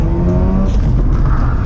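Mazda RX8 drift car sliding through a corner after an e-brake pull at a Japanese circuit, a loud, close, steady engine drone with rising and falling tones, no voices.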